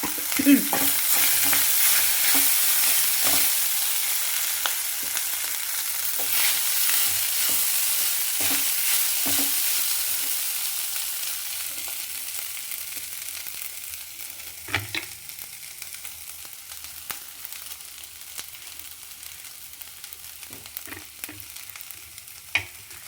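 Crumbled idli stir-fried in a pan for idli pulihora, a steady sizzle with a scraping spatula that fades gradually, broken by a few sharper clinks and taps near the end.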